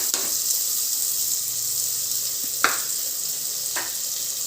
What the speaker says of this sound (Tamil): இப்போ பெரிய வெங்காயத்தை அதில் போடுறோம்.